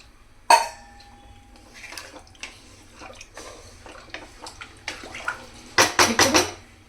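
A lota full of water tipped into mutton in a pressure cooker: a sharp metallic clank, then splashing and clattering handling, ending in a louder burst of splashing pours and clinks.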